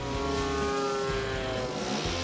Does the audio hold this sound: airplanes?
yes